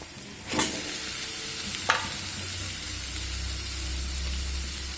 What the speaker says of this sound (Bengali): মাছটা দিয়ে আরো সুন্দর করে কষিয়ে নেব